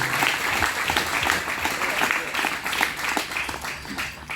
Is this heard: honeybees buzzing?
no